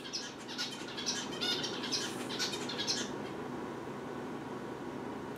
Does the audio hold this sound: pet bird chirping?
yes